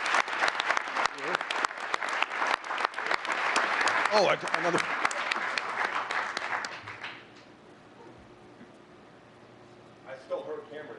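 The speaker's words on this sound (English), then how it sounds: "Give them a nice big round of applause" Audience applause at a mayor's ambassador forum, dense clapping for about seven seconds with a brief voice over it, then fading out to quiet room tone and a short spoken remark near the end.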